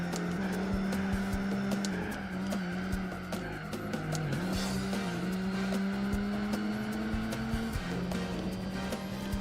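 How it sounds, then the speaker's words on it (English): A race car engine in Gran Turismo 4 holds a steady high drone pinned at the rev limiter, with brief dips as it bounces off the cutoff and slight tire noise beneath, loud and continuous throughout. "I actually hit the rev limiter"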